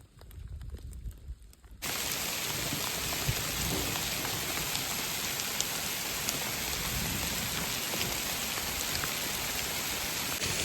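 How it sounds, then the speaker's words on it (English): Hail and rain pelt down during a thunderstorm among pine trees on a mountain trail, starting abruptly as a dense, steady hiss of impacts with occasional sharper hits, loud and close. "the hail is big enough that it hurts now"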